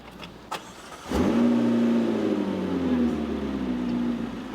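A car engine cranks and catches, then settles into a steady idle in neutral, loud and close. A low rumble holds with a slight swell in pitch and slowly eases off, after a few faint clicks beforehand.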